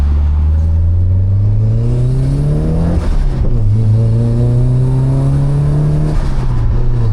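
Nissan SR20DET blacktop turbo engine revving loud and close during a U-turn, pitch climbing in two long rising pulls with a brief drop between, steady throaty drone throughout.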